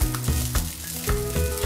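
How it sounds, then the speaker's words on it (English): Loud, steady sizzling of salmon fillets frying in a hot pan, crackling close up with no talking. "place the salmon fillets into the frying pan and cook for about 3 to 4 minutes each"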